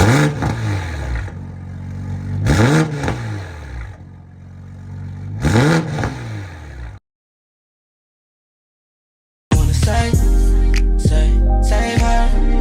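A Toyota Supra with a titanium exhaust in sports mode revs hard, giving three sharp, loud throttle blips that rise and fall. A short silence follows, then loud music.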